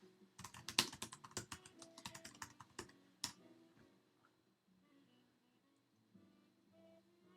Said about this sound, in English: we're going to have typing because my fantastic little keyboard here actually is a bit